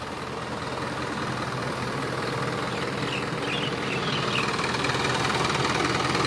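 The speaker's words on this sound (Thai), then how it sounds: "เครื่องยนต์ฮีโน่ J05E 210แรงม้านะครับ" A Hino FC9J truck with a 210 hp J05E diesel engine runs steadily nearby, a continuous low rumbling drone with a faint knock that holds even throughout, with no talking.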